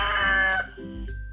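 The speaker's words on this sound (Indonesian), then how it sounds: "Besok paginya Arya berkokok kencang membangunkan kawan-kawannya." A rooster crows once, loud and close, a bright drawn-out call that fades into a trailing note at the end.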